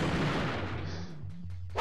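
Gunfire against mines in Ratchet & Clank, a game: a heavy booming blast rumbles and fades, followed by several quick sharp shots in succession, loud and close with no talk.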